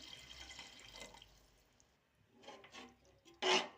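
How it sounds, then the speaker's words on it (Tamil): Water pours and splashes into a cooking pot of rice for chicken biryani in short bursts, quiet at first, ending with one louder, close splash. "இப்போ வந்து நம்ம அளவு தண்ணியை ஊற்றிக்கலாம்"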